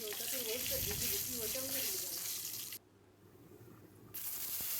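Onion paste mixed with green chilli paste frying in mustard oil with bay leaves, dried red chillies and whole garam masala, a steady hiss and sizzle that briefly softens before rising again, with a voice heard over it.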